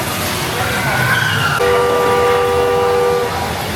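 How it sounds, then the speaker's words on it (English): Horns honk at a bumper car ride at Kennywood amusement park in West Mifflin, Pennsylvania, a couple of sustained tonal blasts, the second held steady for over a second, over crowd noise and background chatter. "I hear honking"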